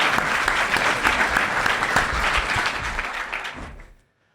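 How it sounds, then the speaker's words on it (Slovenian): An audience applauds a guest speaker at an artificial intelligence talk, steady, fairly close clapping from a moderate crowd that fades out and stops abruptly near the end. "Predlagam en aplavz za našega gosta."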